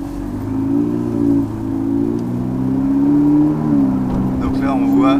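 A Ferrari 488 Spider driving at low speed in an automatic paddle-shift mode hums with a steady low engine note whose pitch drops in steps as it changes gears, while people talk over it.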